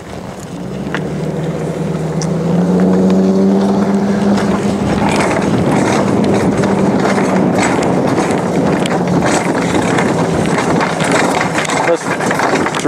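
A horse moving in a circle during roping practice, with faint hoof clip-clops under steady wind rumble and a low droning hum throughout.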